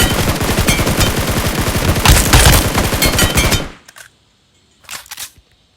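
Rapid automatic gunfire in the mobile battle royale game BGMI: a loud, dense stream of shots lasting several seconds, then silence and one more short burst.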